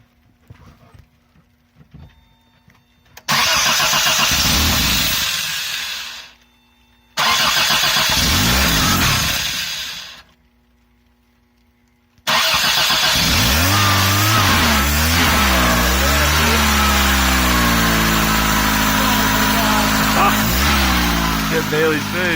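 A 1984 Toyota Tercel engine fitted with a Weber carburetor cranks in two loud bursts, then catches and runs with steady revving close by, with voices talking over it.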